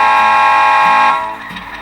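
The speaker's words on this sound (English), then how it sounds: "so we'll give you a horn for comparison" A car horn sounds through an Audio Assist system as a single loud, steady blast of just over a second, then tails off quickly.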